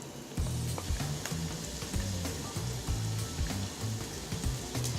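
Chopped onion sizzles in vegan butter in a hot pan, the start of a sauce for a vegan pumpkin pasta dish. The frying is steady, close and loud, with stirring clatter and no talk.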